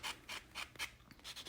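A Bell electric nail drill files a fingernail in short, rhythmic rasping passes, about seven quick scratchy strokes close to the mic, each separated by a brief pause.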